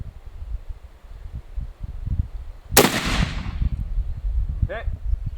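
A single sharp, loud crack from a Cheytac M200 Intervention sniper rifle, followed by a quickly fading rumble, heard over low background murmur and handling noise.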